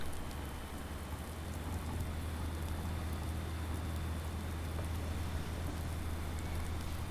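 Steady rain in Farming Simulator 19, a dense continuous hiss of falling drops over a low rumbling hum, even and unbroken throughout with no talking.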